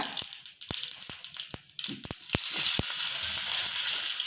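Mustard seeds, cumin, asafoetida and curry leaves dropped into hot oil for tempering: sharp separate pops and clicks, then a sudden, continuous crackling sizzle that holds steady.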